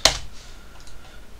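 A single sharp burst of computer keyboard typing, a quick cluster of clicky keystrokes at the start, then fading to quiet room tone.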